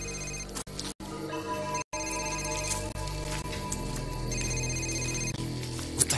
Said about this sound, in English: Is that that agent's car phone? Yeah, he'll never hear it inside.